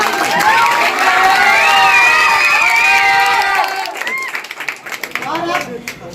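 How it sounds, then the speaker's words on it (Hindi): Loud cheering and applause from a crowd at a children's general-knowledge competition prize ceremony, with excited young voices shouting over steady clapping that thins out toward the end. "जोरदार तालियां हो जानी चाहिए"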